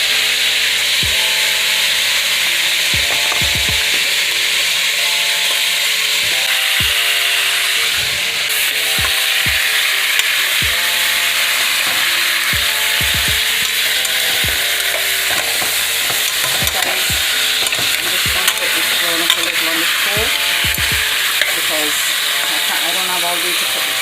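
Jamaican cow foot, mostly bone, seasoned with salt and browning in a hot pot: a steady sizzle with scraping and stirring throughout, close by, occasional speech in the background.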